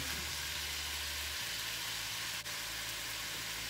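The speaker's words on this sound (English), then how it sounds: "So we'll fry this up" Ground beef and finely chopped onion fry in a pan with a constant, fairly loud sizzling hiss that holds steady throughout, nobody speaking.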